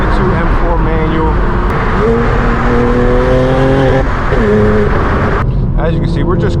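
A straight-piped BMW M4 G82 with a manual gearbox is heard from inside while cruising. A loud, continuous exhaust drone rises and falls in pitch through gear changes, and a voice talks over it.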